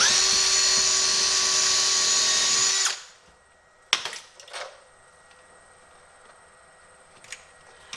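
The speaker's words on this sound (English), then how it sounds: "I am drilling this wood out here so it doesn't split on me" A Bauer power drill bores into wood for a fuel can storage shelf, whining loudly and steadily for about three seconds before cutting off, followed by a few knocks and clatters in a quiet room.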